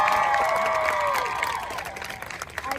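An audience at a political talk show claps and cheers, loud at first and then fading over a few seconds, with tonal voices or whistles riding over the crowd noise.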